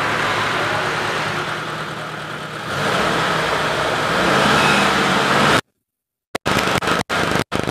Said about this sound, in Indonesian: Coba kita sedikit gas ya.